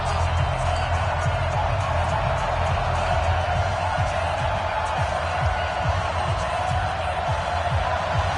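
Steady stadium crowd roar in a Madden NFL football video game before a Colts matchup against the home team: a continuous dense wash of noise with faint low thumps, running the whole time without a break.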